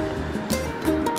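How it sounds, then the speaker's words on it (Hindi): Water rushes steadily beside a roadside on a mountain route, a continuous broadband wash with no clear breaks, heard close and fairly loud. "पानी की आवाज़ देखो आ रही"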